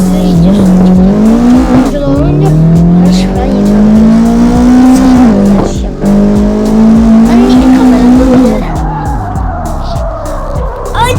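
Engines roar loudly and continuously in the CarX Drift Racing video game as racing cars rev, shift, and climb in pitch over and over, with tire squeals layered on top and a voice talking briefly partway through.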